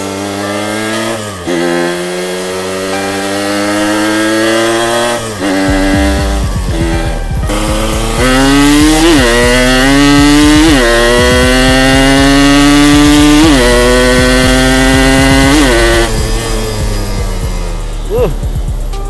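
Yamaha two-stroke motorcycle engine with a stock engine, revving loud and close in repeated rising and falling sweeps, sharp crackling throttle blips between pulls, with a voice speaking briefly over it.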